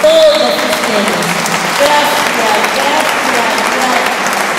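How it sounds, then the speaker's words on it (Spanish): Audience applause at a church gathering welcoming a new parish priest, honoring the bishop and clergy; a dense, steady clapping fills the room from start to finish with some voices mixed in. "démosle un aplauso al señor obispo, a los sacerdotes, a nuestro párroco y pues a todos ustedes."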